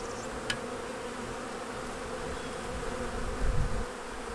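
Honeybee swarm buzzing steadily at close range, a continuous dense drone with a brief louder swell near the end.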